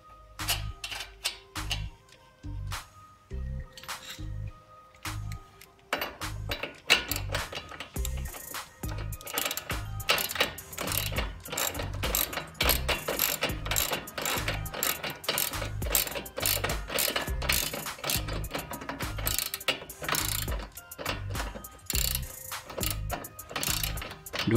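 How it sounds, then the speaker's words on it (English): A cotter nut being screwed onto a front camber kit during a car suspension install, heard as a close, rapid ratchet clicking that starts sparse and then runs in a dense, steady mechanical rattle. "take your cotter nut and just screw it in"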